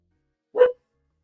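A dog gives a single short, sharp bark at middling volume, alone against silence.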